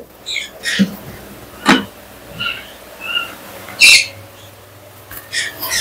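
A female crimson pet parrot at a breeder's aviary lets out a series of short, sharp squawks and chirps at irregular intervals, fairly close and moderately loud, with a few faint background noises between calls.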